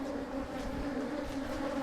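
Bees buzzing at a hive during a December bee yard inspection, a steady close drone without pause.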